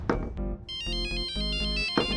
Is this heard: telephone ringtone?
yes